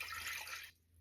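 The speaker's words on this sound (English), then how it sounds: "I have a stainless steel pot, and I'm going to go ahead and pour this right in." Violet infusion is poured into a stainless steel pot, giving a brief close splashing pour of liquid that stops abruptly, leaving near silence.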